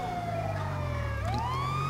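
An ambulance siren in the video game GTA 5, wailing continuously at close range as its pitch sweeps down and then back up, over a steady low engine rumble, with no talk.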